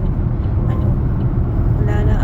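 Fast vehicles pass on a highway during a road trip, a continuous loud roar of road and traffic noise with a slight rise near the end as another vehicle goes by.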